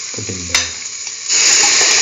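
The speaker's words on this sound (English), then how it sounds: "potato and the broccoli that we marinated in the mustard. Mix." Mustard-marinated potato and broccoli tipped into a hot pan, a brief clunk of the pieces landing followed by a loud, steady sizzle that swells and holds, close with no voices.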